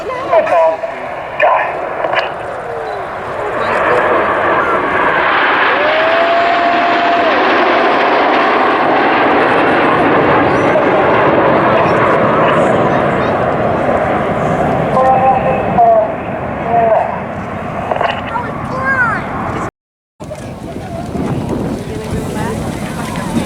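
RAF Red Arrows BAE Hawk jets in a seven-ship display formation at an air show, a loud sustained jet roar swelling and passing overhead with wind buffeting, briefly cut out near the end.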